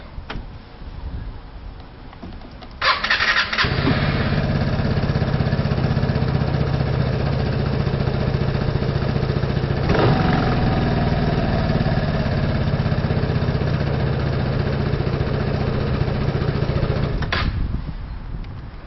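A Vespa LX 125 3V scooter with electronic ignition cranks briefly, catches and settles into a steady, close idle that runs for most of the clip, with a couple of slight revs along the way.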